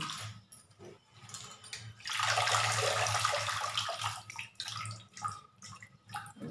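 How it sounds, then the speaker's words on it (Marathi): Fenugreek leaves are rinsed under running water in a kitchen. A tap gushes for a couple of seconds mid-clip, with splashes and drips before and after over a faint low hum. "एकदा धुतलेली 2 पाण्याने स्वच्छ धुवून काढायची"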